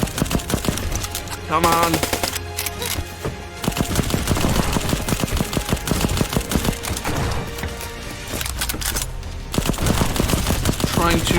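Rapid assault-rifle fire in Black Skylands, dense and loud from start to finish, with rattling bursts broken by brief pauses and a voice speaking briefly over the shots.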